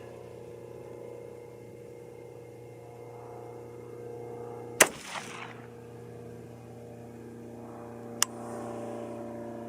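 A 6mm ARC rifle fires Hornady 80 grain ELD-VT loads: one loud, sharp report with a brief ringing tail, then a second shorter crack a few seconds later over a steady background hum.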